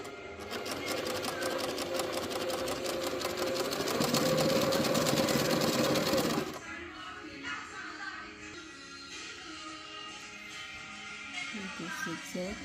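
A heavy-duty German-made Pfaff 360 sewing machine runs at a steady, loud clatter while stitching zigzag for about six seconds, then stops, leaving quieter handling noises and a voice talking.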